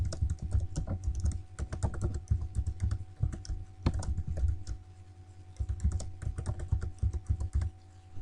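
Rapid clicking of a computer keyboard as a password is typed during a Windows server administration task, steady irregular keystrokes close up with no talking.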